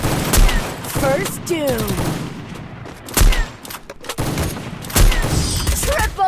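AWM sniper rifle fire in a video game: three sharp, loud shots spaced a couple of seconds apart, set against game sounds and a voice speaking.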